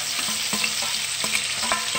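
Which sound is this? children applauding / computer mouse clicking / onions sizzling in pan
onions sizzling in pan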